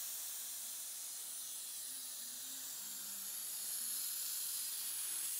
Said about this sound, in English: open the bleed needle valve to bleed or discharge size system